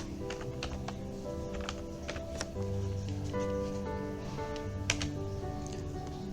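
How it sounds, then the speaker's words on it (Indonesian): Computer keyboard typing with scattered key clicks at a steady, moderate pace, close and clear over a faint background tone, with no voices. "kita ketikkan"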